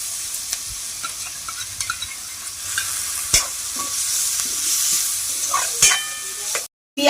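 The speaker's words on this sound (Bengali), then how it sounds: "পেঁয়াজ লঙ্কা আদা রসুন হালকা ভাজা হয়ে গেছে।" Onion, chili, ginger and garlic frying in a pan, a steady sizzle punctuated by repeated scraping stirs and clicks of a spatula, with no talking.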